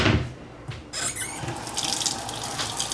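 Tap water pours steadily into a stainless steel sink and drains, a close, continuous hissing splash with good pressure and no voices.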